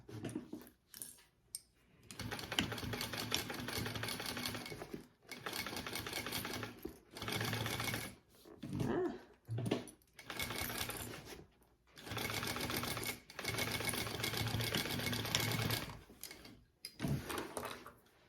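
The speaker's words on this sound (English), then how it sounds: "we're going to sew that together at a 3/8 of an inch seam allowance" A sewing machine sews a handbag seam at a 3/8-inch allowance, running in repeated bursts of several seconds each with short pauses between, close and clear throughout.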